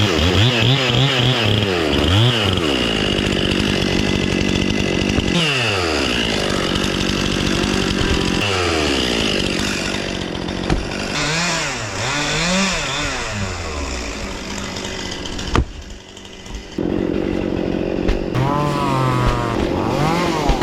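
Chainsaw bucking logs, close and loud, revving up and bogging down through repeated cuts in a continuous snarl, with a short lull near the end before it picks up again.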